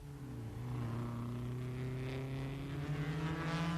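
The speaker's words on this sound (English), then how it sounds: "And at the carousel, the Lancia Ferraris run first and second." Lancia Ferrari race cars at the 1957 German Grand Prix, engines howling in a sustained, fairly loud tone with shifting pitch, like cars racing at speed, recorded with old-broadcast hiss.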